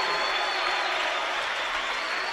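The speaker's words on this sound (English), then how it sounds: "this crowd erupting after that" Wrestling crowd at a Coe meet roaring and applauding right after a pin, a dense, steady wash of cheers filling the room throughout with no break.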